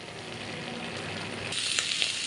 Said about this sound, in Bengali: এবার আমি কচুটা বাগার দেব।